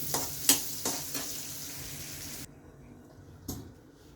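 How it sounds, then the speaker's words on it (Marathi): Cashews and raisins fry in butter with a bright, crackling sizzle and a few utensil taps, then the sizzle drops to a quieter hiss, followed by one more clatter near the end. "बटर फ्राय झाल्यावरती आपण त्याच्यामध्ये हे काजू फ्राय करून घेऊया।"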